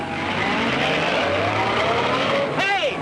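A car drives off in a 1942 Western, its engine a loud, close, continuous rumble that swells and ends in a sharp rising whine.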